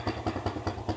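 A motorcycle engine runs in a steady, rhythmic idle with regular low thumps and light clatter, heard close and moderately loud with no talk.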